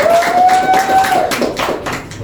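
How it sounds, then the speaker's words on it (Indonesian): A short burst of classroom applause for a student during a sociology microteaching session, several hands clapping together loudly for about two seconds with no talk. "Tepuk tangan dulu dong buat temennya."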